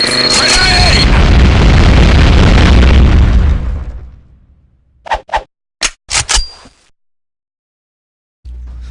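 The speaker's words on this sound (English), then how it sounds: "So this was instant airstrike." Airstrike explosions from the Combat Arms shooter game roar as a long, heavy rumbling blast that fades out, followed by a few sharp, brief bursts and then quiet, with no talking.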